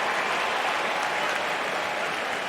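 Crowd applause at a US Open tennis quarterfinal, steady dense clapping filling the whole stretch without a break, loud and close.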